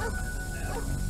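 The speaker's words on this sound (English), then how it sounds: "We got a dog barking." A dog barks and yelps briefly in The Warriors video game, buried in a dense, loud wash of in-game sound.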